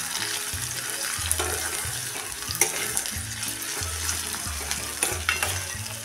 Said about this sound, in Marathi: टोमॅटो पण चांगला गळेपर्यंत आपण परतून घ्यायचा आहे।